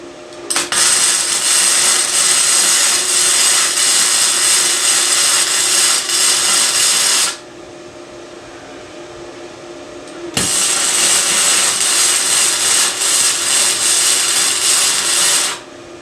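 Welding on a tractor in cold weather: two long, loud stretches of harsh crackling hiss are split by a few seconds of near quiet.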